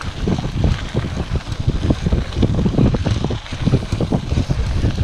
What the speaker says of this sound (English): your hair is waving in the wind like a rock star